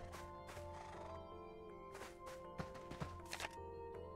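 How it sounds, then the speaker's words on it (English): Baby horse foal neighing in the video game ArcheAge, a faint whinny set among quiet game music and soft clip-clop thuds. "It's a baby horse. Aww. It's a foal."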